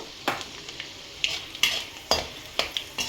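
Peanuts fry with turmeric in a pan for idli upma, a spoon scraping the pan in about seven quick, sharp strokes over a soft sizzle, with no talking.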